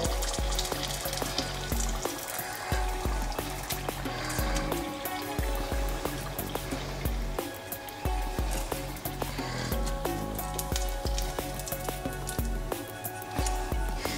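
Vietnamese spring rolls (nems) frying in hot oil, a steady dense crackling sizzle with bubbling throughout, close and fairly loud, with no talking.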